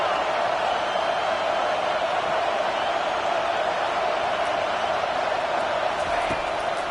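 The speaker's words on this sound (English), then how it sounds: "Decibels rising as the crowd gets behind this defense on third down." Stadium crowd at a Texas vs Clemson college football game roars steadily on a third-down defensive stand, a dense, continuous wall of cheering that stays loud throughout with no clear breaks.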